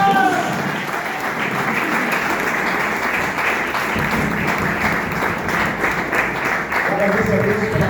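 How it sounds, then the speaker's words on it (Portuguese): Congregation at an Assemblia de Deus church service applauds for Jesus, dense sustained clapping filling the room throughout, with a voice speaking over it near the end. "Uma salva de palmas para Jesus"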